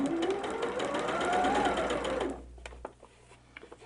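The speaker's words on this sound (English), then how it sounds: "And we're going to sew all the way." A sewing machine runs steadily along a quilt's inner border seam, a close continuous whir for about two seconds before stopping, leaving faint handling clicks.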